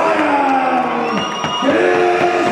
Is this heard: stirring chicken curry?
no